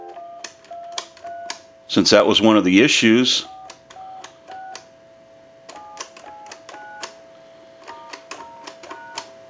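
A Mickey Mouse telephone under repair and conversion dials a number, giving a steady series of short, clean tone beeps spaced at an even pace, while someone briefly talks over them near the start.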